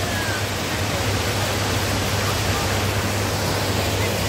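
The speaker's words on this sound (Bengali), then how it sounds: "আর ওয়াটারফলসটা কিন্তু বেশ ভালো, বেশ ভালো আর বেশ বড় ওয়াটারফলস।" A large mountain waterfall at Sela Pass in Arunachal Pradesh roars as a dense, unbroken rush of falling water, loud and close, with no other sounds.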